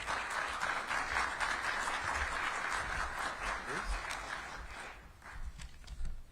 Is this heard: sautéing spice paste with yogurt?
no